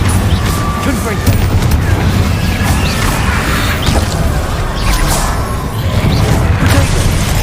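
A Confringo spell blast in Hogwarts Legacy combat on hard mode: loud, continuous crashing and booming impacts with whooshes, and a voice calls out over the din.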